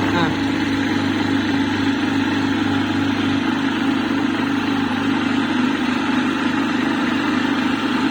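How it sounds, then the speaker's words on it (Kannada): A domestic flour mill grinds wheat into fine powder, giving a steady, loud motor drone with a low hum and broadband whir that holds continuously throughout. "ನಾವು ಈಗ ಆನ್ ಮಾಡ್ತೀವಿ ಮಾಡ್ತಾ ಇವಾಗ ನೋಡಿ ಫುಲ್ ಫೈನ್ ಗ್ರೈಂಡಿಂಗ್ ಇದ್ರಲ್ಲಿ ಆಗುತ್ತೆ ನಿಮ್ಗೆ"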